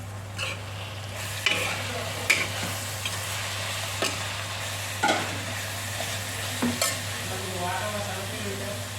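Coriander chutney mixture fries in a pan under a low constant sizzle and hum, with scattered clicks and scrapes from a spoon stirring it, moderately quiet and close.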